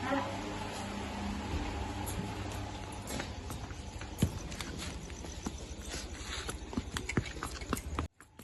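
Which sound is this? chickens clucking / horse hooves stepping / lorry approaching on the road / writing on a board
horse hooves stepping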